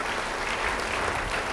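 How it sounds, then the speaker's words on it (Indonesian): A brief, dense burst of applause from a church congregation during a sermon, even and continuous with no voices over it. "Yang setuju beri tepuk tangan bagi dia."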